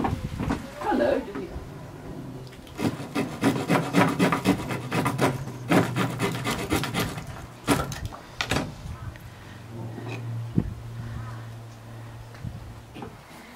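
A tool rasps and scrapes against the inside of a bamboo tube in repeated quick strokes, close and dry, with bursts of scratching separated by short pauses and a low hum underneath.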